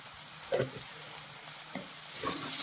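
Masala spices with ground fennel and black pepper frying in oil for fish pollichathu, a constant close sizzle with a few soft stirring scrapes and clinks.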